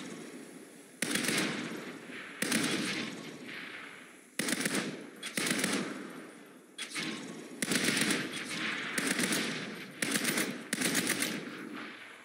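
Automatic gunfire in the Saints Row video game rattles out in repeated long bursts, loud and close, separated by short gaps with no talking.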